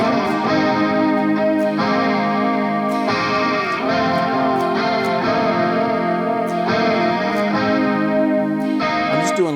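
Heavy distorted electric guitar plays a chorus riff, with thick saturated chords and a chorus-like effect, loud and sustained, with accented hits about every couple of seconds and no talking.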